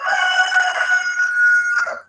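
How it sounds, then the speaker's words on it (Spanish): A rooster crows in one long, loud, sustained call lasting about two seconds, with a slight break near the end and no voices over it. "Me llega ese gallo"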